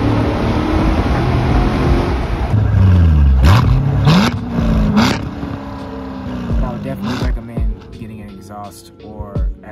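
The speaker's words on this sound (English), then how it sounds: "I have a Corsa X-Pipe and the MPP exhaust, and it's right around perfect." A Corvette C7 engine with a Corsa X-pipe and MPP exhaust revs hard several times, rising and dropping in pitch with a throaty exhaust note, close by, with brief voices in the background.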